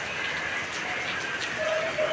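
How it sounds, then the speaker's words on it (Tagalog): Heavy rain falls continuously during a stormy day, a steady dense patter on surfaces that stays close and even across a brief moment. "Dire-diretso ang ulan."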